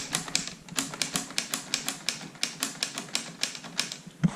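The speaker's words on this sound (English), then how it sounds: "it's got that sound of a typewriter moving across" A LEGO-built typewriter clacks steadily as keys strike and the carriage moves across, a quick rhythmic run of sharp close taps with a heavier knock near the end.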